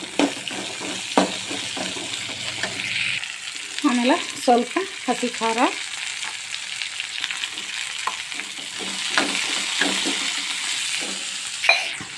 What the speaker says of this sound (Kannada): ಇವಾಗ ಇದಕ್ಕೆ ಸ್ವಲ್ಪ ಉಳ್ಳಾಗಡ್ಡಿ ಆಮೇಲೆ ಒಗ್ಗರಣೆ ಹಾಕ್ತೀನಿ